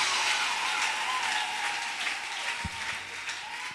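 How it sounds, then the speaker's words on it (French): A church congregation in Kinshasa bursts into sustained applause: loud, dense clapping that fills the space evenly from start to finish, with one low thump partway through. "Est-ce qu'on peut donner une main d'acclamation?"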